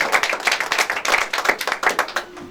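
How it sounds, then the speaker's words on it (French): Congregation clapping in church, a dense run of overlapping hand claps with a rough pulsing rhythm, close and fairly loud, no voices over it. "Applaudissons encore une fois de plus pour le puissant qu'on nous donne."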